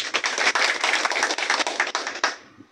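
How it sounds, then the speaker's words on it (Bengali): An audience at a family courtyard meeting held for a union council election bursts into clapping, a dense run of hand claps that carries on for over two seconds before stopping abruptly. "আপনারা একটা হাততালি দিবেন আশা করি।"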